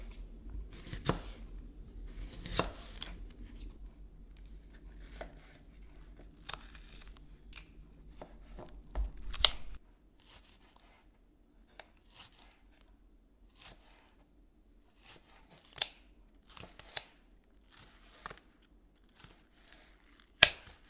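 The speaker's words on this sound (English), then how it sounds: "so now that we chopped up our onions" Knife chopping green onions and onions for a bulgogi marinade, irregular sharp cuts and crunchy snips, denser and louder in the first half, then sparser strokes over a quieter background.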